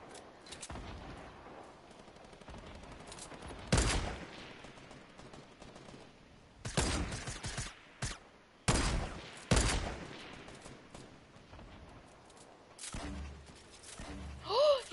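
Fortnite sniper rifle shots ring out as a handful of loud, sharp single cracks spaced a second or more apart, each followed by a short tail, over a quiet game background with a brief voice near the end.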